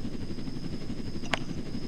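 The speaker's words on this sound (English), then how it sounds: "Just land on these helipads and it'll customize your plane." An airplane in the Roblox game Jailbreak sets down on a helipad, its steady engine drone running through the whole stretch at moderate level, with a brief sharp click near the end and no talking.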